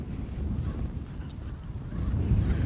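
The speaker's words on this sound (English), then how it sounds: "It is windy today at the trail." Low, rumbling wind on an outdoor trail buffeting the microphone, steady throughout and swelling toward the end, with no voices.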